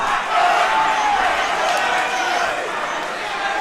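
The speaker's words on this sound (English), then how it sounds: "Crowd being G'd up there just for the 30-second finish." Arena crowd at an Eternal MMA 28 fight roars and yells steadily through the final thirty seconds of a round, a loud, dense wall of cheering with voices calling out over it.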